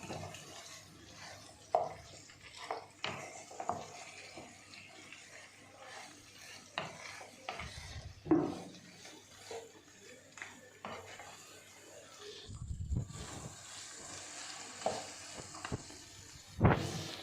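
Kaju chicken fry cooks in a pan with a low sizzle, while a spoon scrapes and taps against the metal in irregular stirring strokes and a lid clatters now and then.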